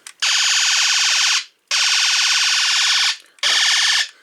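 A Transformers G1 Decepticon Shockwave toy fires its electronic laser sound in three loud, buzzy, rapidly pulsing bursts, the first two long and the last shorter, with brief silences between.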